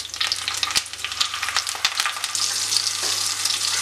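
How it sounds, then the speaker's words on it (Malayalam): Masala-coated karimeen pearl spot fish fries in hot oil with curry leaves in a pan, a steady close, bright sizzle with crackling bursts and a few sharp pops, no voices. "ഇനി ഇവിടെ മസാല വരട്ടി വെച്ചിരിക്കുന്ന മീൻ ഒന്ന് ഫ്രൈ ചെയ്തെടുക്കാം"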